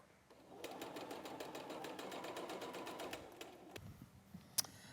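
A sewing machine stitches along the edge of toweling fabric in one steady, fast run of needle strokes lasting about three seconds, then stops, leaving faint handling noises.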